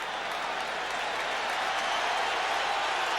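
A stadium crowd at a 1989 Giants–Dallas football game roars and applauds in a broad, steady wash of noise, sustained and fairly loud without a break.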